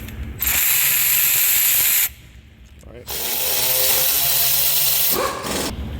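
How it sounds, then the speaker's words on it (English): A power tool spins out the 5mm Allen bolts holding the parking brake motor on a 2022-2024 Toyota Tundra: two loud, close, sustained whirring bursts with a short pause between them. "You need to remove the parking brake motor itself by two 5mm bolt Allen socket."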